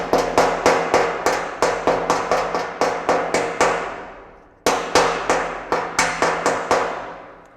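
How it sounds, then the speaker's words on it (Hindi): A chipping hammer strikes repeatedly to knock slag off an arc-welded butt joint, giving loud, sharp metallic raps in steady runs of quick blows with one brief pause, each hit ringing out close and clear. "चिपिंग हैमर देके हमको चिप करना पड़ेगा"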